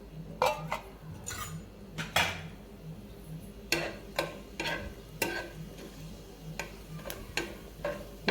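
Whole spices (star anise, cinnamon, bay leaf, green cardamom, cloves, black pepper and cumin) stirred in hot oil for chicken masala, mostly repeated sharp taps and clinks of a spoon on the pan over a soft low sizzle.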